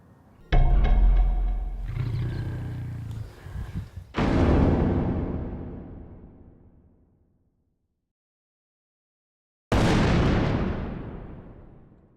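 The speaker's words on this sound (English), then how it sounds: "we heard a lion growl" Lion growling and roaring in the wild near nightfall: loud deep rumbling bursts, one long roar fading out, a silent gap, then another powerful roar cut off at the end.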